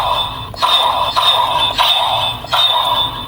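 Sword mode sound from the DX Breakam Zetzer, a Kamen Rider Zetz toy weapon, giving a loud, bright electronic chime and tone pattern with a few pulsing swells.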